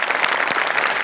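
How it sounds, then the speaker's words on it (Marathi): A studio audience at a Marathi comedy show claps loudly for a performer named Shivali, a brief burst of full, close applause. "मस्त जोरदार टाळ्या शिवालीसाठी"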